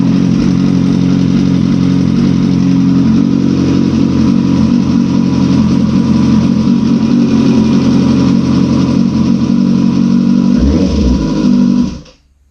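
A 2009 Kawasaki ZX-10R with a rebuilt, previously blown engine runs on a stand with no rear sprocket fitted, a loud, steady idle with a rough mid-range drone that holds evenly before cutting off abruptly near the end.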